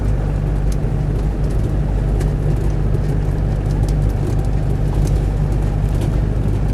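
A Land Rover Defender 110 200TDi diesel drones at a steady, loud pitch from inside the cabin as it drives and shifts into fifth gear, with road and wind noise throughout.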